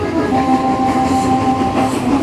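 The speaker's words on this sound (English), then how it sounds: "prefer to ride on one of the strangest street railways in the world, the steam tram." A fireless steam tram runs through Batavia streets around 1930, its steady rolling rumble and a sustained tonal whine carrying without a break under no talk.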